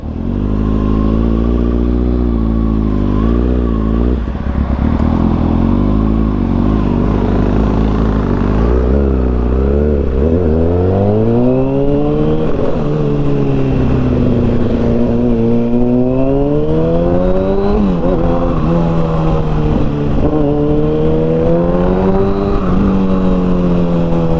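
A 2009 Kawasaki ZX6R motorcycle on a short test ride toward Dagupan, its engine loud and close, revving up and down through repeated rising and falling sweeps as the rider accelerates and shifts, with steady wind and road noise underneath.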